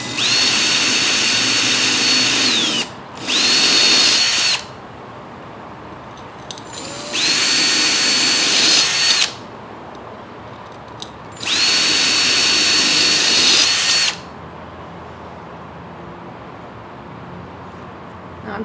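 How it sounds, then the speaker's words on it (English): A power drill whines in three long bursts separated by short pauses while drilling drainage holes in a planter pot, loud and close, its high-pitched motor tone steady through each run. "since it is so easy to drill"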